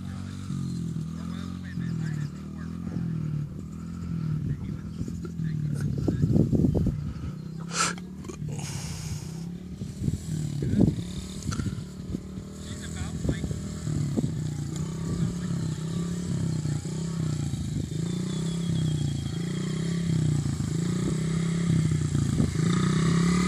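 A child's motorcycle ridden on her first day, its small engine droning steadily with rises and dips and occasional clatter, moderately close throughout.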